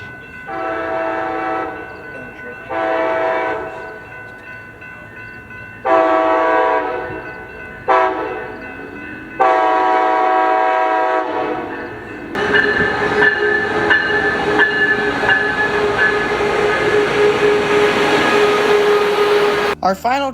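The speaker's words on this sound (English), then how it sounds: "Our second to final train would be coaster 687 with SC44 Charger 5005 leading" Coaster commuter train 687, led by SC44 Charger locomotive 5005, passes Carlsbad Village Station, sounding several loud, sustained horn blasts in a repeating pattern before the rumble and clatter of the train rolling by close up.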